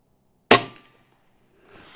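A custom UX Notos air rifle fires an 18 grain pellet in a single sharp, loud shot that decays quickly, followed by quiet faint noise.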